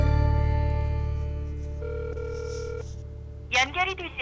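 A telephone call dialed from a home in a Korean reality drama: steady tones and ringing signals hum over a low background, then a voice breaks in near the end.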